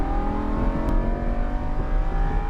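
A Lamborghini Huracan LP 610-4 engine pulls hard under throttle on a race track, a loud, steady, harmonic-rich drone with a rising tone, close and continuous throughout with no talking.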